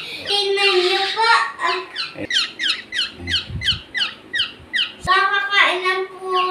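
A pet black-naped oriole squawks in a rapid run of sharp, repeated harsh calls, loud and close, with a brief fuller burst of calling at the start and end.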